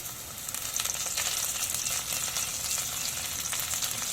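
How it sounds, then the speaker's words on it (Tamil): A bunch of curry leaves dropped into half-sautéed onions for a taro-root kara kuzhambu, setting off a continuous moderate sizzle and frying hiss with light stirring. "இப்போ ஒரு கொத்து கருவேப்பிலை போட்டுக்கலாம்."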